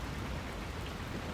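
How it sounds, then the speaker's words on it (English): Steady rain in the game Wild Hearts, an even, dense wash of falling drops with no breaks and no speech. "This rain."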